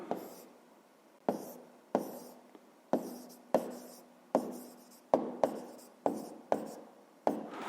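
Pen writing by hand on paper for a 5th-grade decimal fractions maths exercise, a close series of short scratchy strokes in about ten bursts with brief pauses between, no talking.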